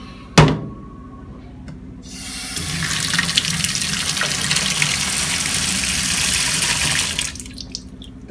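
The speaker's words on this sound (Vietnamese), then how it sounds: "xả nước lạnh vào" Cold tap water gushes into a pot after a brief knock, a loud, steady splashing stream lasting about five seconds before cutting off, close to the microphone with no talking.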